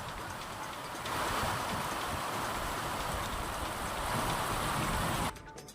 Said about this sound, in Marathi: आष्टी तालुक्यामध्ये अतिमुसळधार पाऊस झालाय